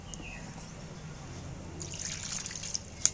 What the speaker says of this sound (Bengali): মাংসকেই আবার ধুয়ে নিচ্ছি।